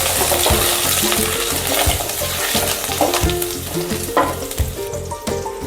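Garlic frying in hot oil in a pan for a spiced yogurt tempering, a steady close sizzle with light spoon and pan clinks scattered throughout.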